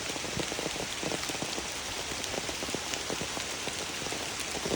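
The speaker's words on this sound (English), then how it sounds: "it's pouring rain too" Heavy rain pours steadily, with dense drops pattering on a surface throughout and no voices.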